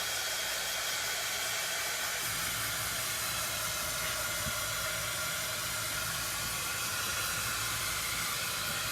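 A hair dryer blows steadily to dry a crafted bee window, a constant loud airy hiss and whoosh that holds unbroken throughout with no talking.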